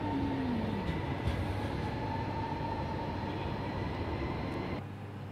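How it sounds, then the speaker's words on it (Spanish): A commuter rail train rolls through Zaragoza Delicias station, a steady loud rumble with a high squeal that glides downward early on, easing slightly near the end. "varios trenes, varias rutas de cercanías y media distancia que pasan por aquí"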